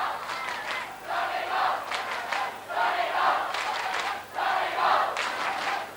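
Large stadium crowd at a 1987 All-Ireland Under-21 Gaelic football final replay between Donegal and Kerry roars and cheers in loud swelling waves, rising and falling continuously with no clear talk.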